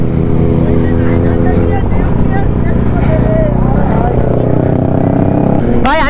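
A Kawasaki Z900 and KTM Duke 250 race side by side, loud engine drone with shifting pitch and wind buffeting the microphone, voices talking over it.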